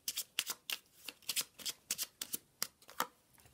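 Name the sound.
shuffling tarot cards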